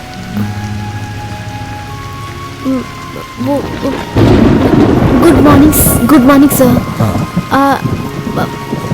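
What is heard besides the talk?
heavy rain with thunder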